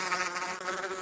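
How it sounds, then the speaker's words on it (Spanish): A single housefly buzzes close by in a steady, faint whine that wavers slightly in pitch, heard alone without any talk. "Una mosca, perfecto."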